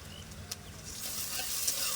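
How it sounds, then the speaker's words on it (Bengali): Onions frying with cumin paste in a pan give a continuous soft sizzle with a single light stir or clink near the start. "পেঁয়াজগুলো এবার লাল লাল করে ভেজে নেবো জিরে বাটাটা দিয়ে দেবো"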